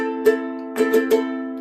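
A ukulele strums a song's rhythm at speed, a quick run of bright chord strokes with a short pause between the first strum and the rest, over ringing strings.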